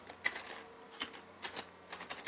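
Quick bursts of keystrokes on a computer keyboard while text is entered into a Flutter code editor, coming in short uneven clusters of clicks separated by brief pauses, close and crisp with nothing else heard.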